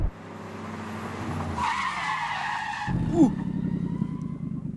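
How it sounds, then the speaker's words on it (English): A muscle car without ABS brakes hard from 60 mph at a drag race, its tires locking into a loud, sustained skid over the engine's droning tone, then a brief squeal near the end. "tires are locked"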